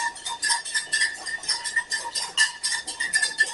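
Eggs being whisked by hand for béarnaise sauce, a brisk, close, continuous run of rhythmic metallic clicks against a bowl, with no talking.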